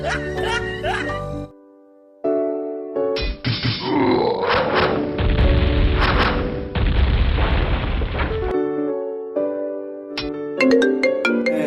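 A tonal electronic ringtone plays in short melodic phrases, interrupted by a heavy booming burst and grunting in the middle.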